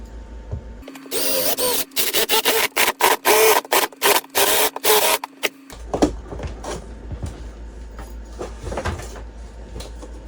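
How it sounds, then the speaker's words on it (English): A power drill set on impact drills a hole in an RV in a series of short, loud bursts, pausing between each, followed by clattering and shuffling handling noises. "I'm going to set my drill on impact, and we'll drill a hole up through here."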